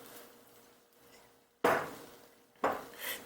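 Two kilograms of peeled tangerines poured into a cooking pot make two sudden, loud clattering thumps about a second apart, heard close in a quiet kitchen.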